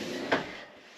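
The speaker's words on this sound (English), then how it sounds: "Soft close." A soft-close drawer in a camper slides shut with one muffled thud that fades into quiet, no voices.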